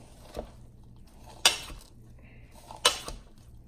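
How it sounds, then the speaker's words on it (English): A utensil stirs vegan coleslaw in a bowl, making a few soft scrapes and two sharp clinks against the dish, close and fairly quiet with no talking. "we're gonna give it a little bit of a stir. Mix it up a little bit."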